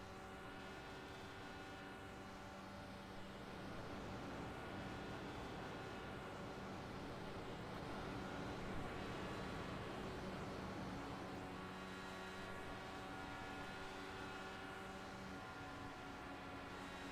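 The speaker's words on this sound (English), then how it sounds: "I hear Jim's kind of blipping the throttle a little bit" IndyCar engine in the iRacing sim at Daytona, droning steadily with harmonic buzz and slight rises as the throttle is blipped, continuous and fairly loud with no talk.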